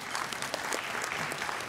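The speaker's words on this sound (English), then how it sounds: "Give him another round of applause" A crowd at a scholarship jazz brunch applauds for a governor, a steady dense patter of clapping with no voices on top.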